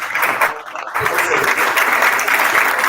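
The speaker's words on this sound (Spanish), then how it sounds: "lo recibimos con un aplauso" Audience applause at a conference talk, welcoming a speaker onto the stage; dense clapping that dips briefly near the start, then holds steady and loud throughout.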